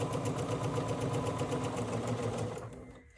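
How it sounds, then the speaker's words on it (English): A sewing machine stitches quilt block fabric in a steady, close, rapid mechanical whir with regular needle clatter that winds down and stops near the end. "now I'm going to sew right down through here"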